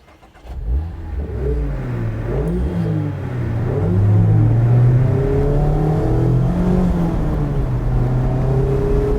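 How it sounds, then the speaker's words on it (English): A 2020 Mazda MX-5 RF's 2-liter four-cylinder engine revs up and accelerates, rising and falling in pitch through gear changes, loud and close with a steady road rumble underneath. "listen and feel that new engine in this"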